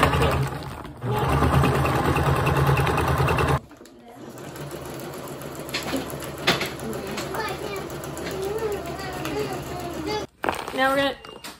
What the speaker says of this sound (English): we're gonna do a little reverse at the beginning to make sure that the stitching is nice and secure